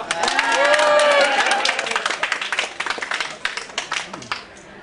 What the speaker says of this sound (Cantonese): 如果贊成，我可唔可以拍一拍手掌啊？